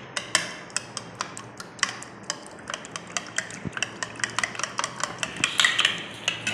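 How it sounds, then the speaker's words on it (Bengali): Eggs are beaten in a bowl for a pudding cake, a fork or whisk clicking against the side in quick, regular taps that grow faster and denser toward the end, close and distinct. "প্রথমে আমি ডিমটা ভালো করে ফেটিয়ে নেব"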